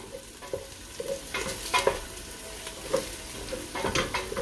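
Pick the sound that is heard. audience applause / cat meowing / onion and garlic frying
onion and garlic frying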